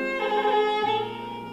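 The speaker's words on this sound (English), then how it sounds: "It's the sound of the Khuur, a traditional instrument of Mongolia." A khuur, the traditional Mongolian bowed string instrument, plays a deep, mournful phrase in a performance hall: a sustained, rich bowed tone that shifts pitch once and then fades slightly.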